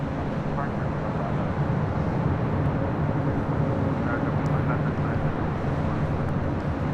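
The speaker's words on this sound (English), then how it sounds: "That was United Airlines Flight 246 coming in from Denver on the 737 MAX 9" A United Airlines Boeing 737 MAX 9 arrives at LAX from Denver, its jet noise a steady, loud broadband roar that holds unchanged through the whole stretch with no pauses.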